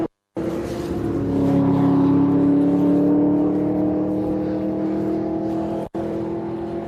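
Race cars at Mallory Park circuit during a 750 Motor Club race, a loud engine drone building and holding steady as cars pass close by, cut off by a brief break near the end.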